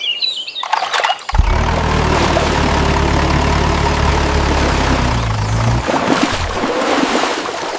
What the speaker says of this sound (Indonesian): ternyata ini traktor.